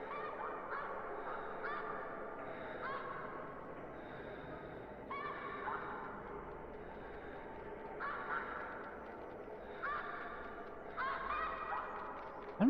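Geese in the hunting video game theHunter Classic honk repeatedly at a distance, scattered calls overlapping in irregular bursts over a quiet outdoor ambience.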